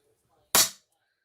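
A metal die-cutting die banged once to knock out paper bits, a single sharp close impact that rings briefly and decays within a quarter second, alone in near silence.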